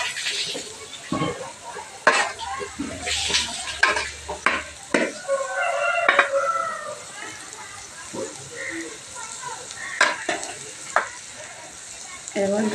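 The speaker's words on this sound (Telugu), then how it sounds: "రైస్ అయితే వేస్తున్నాను." Rice tipped into a hot pan for tomato rice and stirred, with light sizzling and repeated scraping and clinking of a spoon against the pan, while a person talks at intervals.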